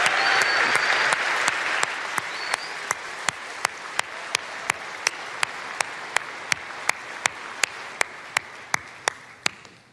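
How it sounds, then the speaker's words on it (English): Large audience applause at a tech keynote, dense and loud at first and slowly thinning, with a steady run of sharp evenly spaced percussive hits cutting through the clapping. "How about a huge round of applause for our friends at Cirque?"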